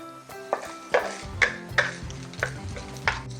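Hand-pounded Thai curry paste is stir-fried over low heat for chu chee mackerel. A soft, low sizzle runs under regular spatula strokes that scrape the pan about twice a second.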